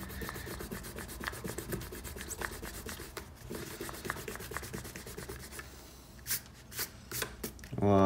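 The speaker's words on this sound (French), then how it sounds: "On peut ensuite gommer nos traits de construction avec la gomme Faber-Castell noire que j'utilise." A black Faber-Castell plastic eraser is rubbed over pencil construction lines on paper in quick, rhythmic back-and-forth strokes, close and steady, pausing near the end before a brief louder handling noise.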